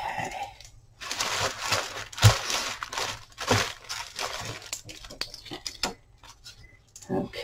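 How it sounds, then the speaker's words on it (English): Crinkly, crackling rustle of taped plastic film being peeled off an eyeshadow palette, in irregular bursts with occasional sharp snaps, close and fairly quiet. "Just got the plastic off"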